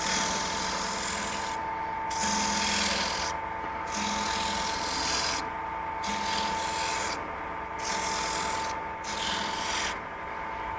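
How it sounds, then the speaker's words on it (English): Sandpaper held against a wood bead spinning on a lathe: a continuous rasping, scratching rub over the lathe's steady hum, rising and dropping in regular strokes as the paper is worked in and out. "the biggest thing with a lathe is you got to work your sandpaper to get it in there."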